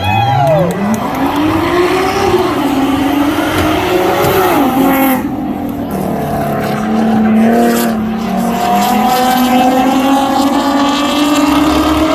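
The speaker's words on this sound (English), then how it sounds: "Who's ready to see some good side-by-side racing?" Nissan 370Z and Corvette ZR1 racing side by side at a spectator drag strip, Freedom Factory, two loud engines revving and accelerating with rising pitch, close and sustained, a brief tire squeal, crowd noise beneath.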